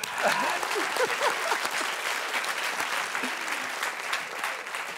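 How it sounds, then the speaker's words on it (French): A studio audience on a French TV talk show bursts into sustained applause, with dense steady clapping throughout and a few brief voices and whoops near the start. "Applaudissez-vous."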